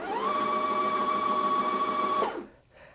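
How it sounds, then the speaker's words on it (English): A Janome Atelier 7 Anniversary Edition sewing machine winds its bobbin with a steady, close motor whine that holds an even pitch for about two seconds, then spins down and stops. "if I apply some pressure to the foot control, that will start winding the bobbin"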